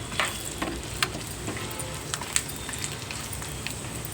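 Vermicelli and sago sizzle and crackle steadily in a pan on residual heat after the stove is switched off, with a close, continuous frying hiss and a few small pops.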